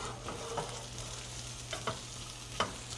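Soft steady sizzle of food frying in a pan before chickpeas go in, quiet and continuous with a few light clicks of stirring.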